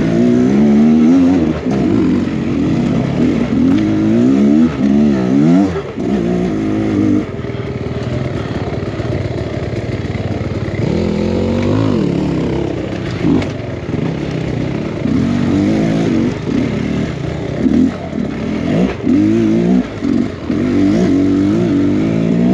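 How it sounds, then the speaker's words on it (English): An enduro motorcycle climbs a launch on a tough woodland trail, its engine loud and close, rising and falling through repeated revs and throttle blips for the whole stretch, with no voices. "Here goes Jarrett on his bike up the launch."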